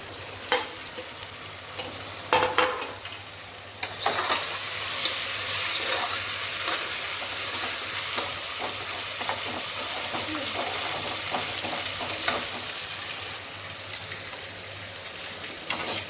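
Sautéed onions with mint and coriander leaves sizzle in a pan for veg pulao, a close steady frying hiss with repeated stirring scrapes and a couple of sharper utensil knocks.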